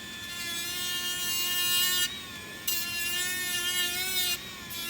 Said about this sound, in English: I roll my frame into my Dremel